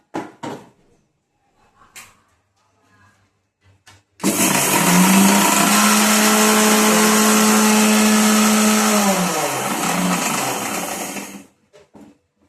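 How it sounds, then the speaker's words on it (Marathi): Loud mixer grinder whirring steadily for several seconds as it grinds flattened rice to powder, its motor pitch dipping as it winds down, with a few clicks before and after. "आता हे आपण 1 वाटी पोहे घ्यायचे, याला मिक्सरला मस्त छान असं याचं पावडर करून घ्यायचं"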